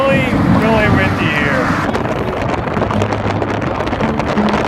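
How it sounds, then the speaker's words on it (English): Strong wind roars continuously across the microphone on an open coastal island campsite, loud and buffeting, with a voice speaking briefly over it at the start. "It's really, really windy"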